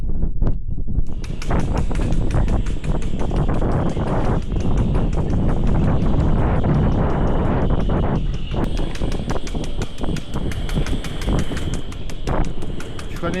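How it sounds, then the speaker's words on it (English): Strong wind blowing steadily at around 28 knots on a freezing day, a loud continuous roar with gusty buffeting and rattling throughout. "wind"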